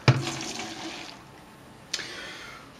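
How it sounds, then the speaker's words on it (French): Cooked pasta poured into a colander to drain, a sudden close splash of water rushing through that trails off into a steady hiss, followed by a second brief splash, with no voices. "On sort les pâtes du feu et on les égoutte à l'aide de la passoire."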